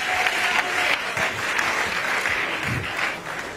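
An audience applauds a singer at a live music show, with dense, steady clapping that continues loudly throughout and a few faint crowd voices mixed in.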